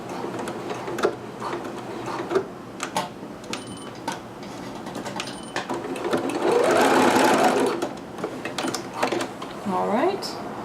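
Sewing machine stitching a seam on a McCall's M6701 dress, running in short bursts with a longer steady run and a brief back stitch, close and fairly loud, with a voice talking between the runs.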